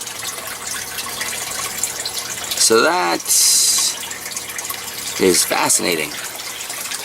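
Water pours onto plants in a garden in two short splashing gushes, with a steady outdoor background and someone speaking briefly.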